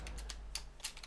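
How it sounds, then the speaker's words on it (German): Quick typing on a computer keyboard during a Minecraft mini-games session, with about eight sharp, close key clicks in uneven bursts over a low steady hum, and no talk. "Ich wette, man hört meine hässliche Tastatur"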